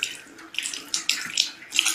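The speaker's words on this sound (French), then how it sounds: "L'eau qui sort du robinet de la SNDE." Tap water from a municipal supply runs and splashes unevenly into a basin, close and clear, with a gushing, bubbling rhythm and no voices.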